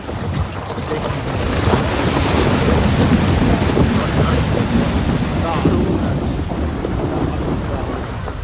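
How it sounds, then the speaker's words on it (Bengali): Water rushing along a stream in the Buxa jungle near Jayanti, a loud continuous broadband roar heard outdoors with rough wind buffeting on the microphone throughout. "আর এই হচ্ছে জল"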